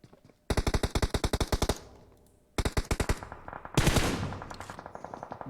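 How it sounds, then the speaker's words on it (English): Bursts of rapid automatic gunfire in the PUBG Mobile video game, three sharp volleys with short pauses between, followed by a louder blast. "We've got shots firing off in the distance with Team 5."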